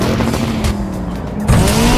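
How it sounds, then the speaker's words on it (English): A rally car in the arcade racing game Gravel roars at high revs with a sustained, loud, buzzing engine tone that shifts pitch slightly as it accelerates, with gravelly tire noise underneath. "Even this engine roar is practically identical."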